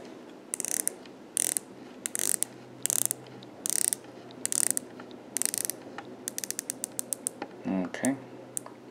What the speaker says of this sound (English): we'll show you the unidirectional bezel